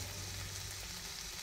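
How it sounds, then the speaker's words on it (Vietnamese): Pickled mustard greens sizzle and crackle in a hot pan while being stir-fried, a brief steady close frying hiss with no voices. "Xào có dưa chua của mình nó thật là thơm nức mũi lên."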